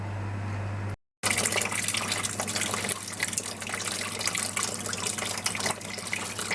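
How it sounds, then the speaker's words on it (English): Coolant drains from an Alfa Romeo GTV 916 in a steady, close gushing pour of liquid that starts after a brief gap and runs continuously to the end. "Draining coolant again."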